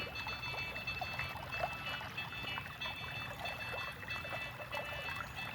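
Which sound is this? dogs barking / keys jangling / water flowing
water flowing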